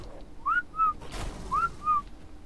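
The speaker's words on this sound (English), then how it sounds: "I need to whistle them all again" A player character in the video game Ark Survival Evolved whistles to tamed creatures, giving two pairs of short rising-then-falling whistled notes, clear and close, with no voices over them.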